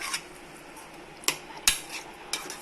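A spoon works through chicken marinade with kasuri methi in a bowl, giving a few sharp, scattered clinks against the dish over a soft background, close by and without speech.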